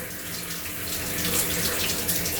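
An on-board shower runs aboard a Singapore Airlines A380, giving a steady, loud hiss of spraying water with no break across the whole stretch and no voices.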